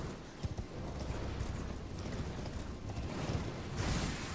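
Horse hooves gallop across open ground in Elden Ring, a quick steady clip-clop rhythm held at fairly low volume, with no talking over it.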